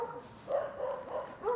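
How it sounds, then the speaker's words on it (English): Dogs barking outdoors in a winter garden, a few muffled barks and yips spread over a second and a half, moderately distant, with no talk over them. "Oh, here comes the dogs."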